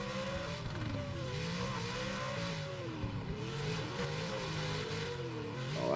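A Corvette and an E30 M3 drift in a sim racing game, their engines revving high and warbling up and down continuously, with tire squeal and a rising note at the end, steady and fairly loud.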